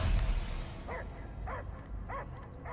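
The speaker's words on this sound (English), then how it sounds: "I hear only barking." A dog barks three times at an even pace in the Guardians of the Galaxy video game, fairly faint and set against a low rumbling background.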